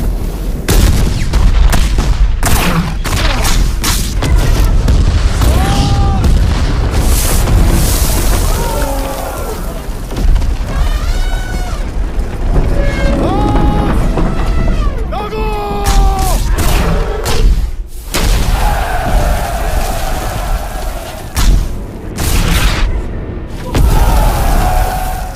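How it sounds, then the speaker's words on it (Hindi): Cannon fire in a Hindi war film, a run of heavy booms and blasts spread through the scene, loud and close, mixed with battle clamor, shouting and brief speech. "बरखुरदार, अपनी तोपें दागो इन पे।"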